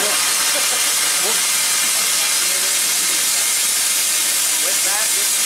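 Steam locomotive coming alive in a rail yard, its fire catching in the firebox, releasing a loud, steady broadband hiss of steam that fills the scene, with faint voices underneath.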